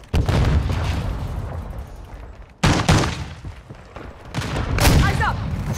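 Loud blasts and gunfire in Call of Duty: Modern Warfare II after a Semtex grenade is thrown, two sharp booming hits a few seconds apart amid rolling battle noise.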